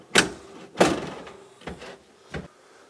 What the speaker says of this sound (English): the soft close works, the drawer fits